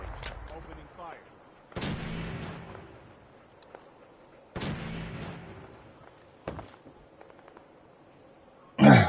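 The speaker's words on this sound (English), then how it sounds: "Opening fire." Gunfire in the video game Fallout 4: a few separate heavy booming shots spaced several seconds apart, each with a long decaying tail, ending on a sharp loud burst.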